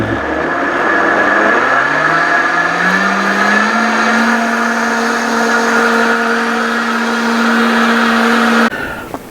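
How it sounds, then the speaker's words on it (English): A blender runs loud and steady on high speed, whirring through a smoked hummus bean mixture with a motor whine that climbs in pitch early on and then holds, cutting off near the end. "we'll start blending again, and we'll just let it go for about 2 minutes or so on its high speed"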